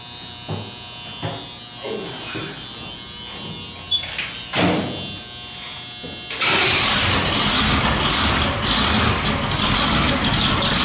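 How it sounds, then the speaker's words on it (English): A freshly swapped V8 in a Briggs-bodied T-bucket hot rod cranks over and then fires, settling into a loud, steady, rumbling idle close by after a few seconds of scattered clunks and starter noise. "Let's see if the battery's got enough juice to start."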